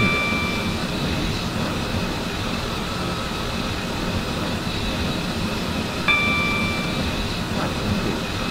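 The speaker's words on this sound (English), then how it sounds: "The train now approaching." A non-stopping train in the Roblox game Stepford County Railway rushes past a station platform, a steady broad roar lasting throughout with faint tonal whines and a couple of brief high chimes, loud and close with no talking.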